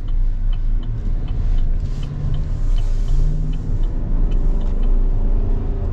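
A 2024 Chevy Silverado 1500 WT pickup truck drives steadily, its engine a constant low rumble with road noise heard from inside the cab and no talk.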